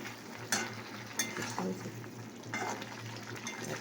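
A vegetarian curry being stir-fried in a pan gives a low steady sizzle, with occasional clinks and scrapes of a spoon against the pan and a few faint voices in the background.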